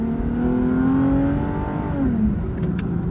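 A Lexus IS350 with muffler delete and Vibrant resonator revs up and drops back on a back road, the exhaust droning with a rising then falling pitch and a few faint pops near the end.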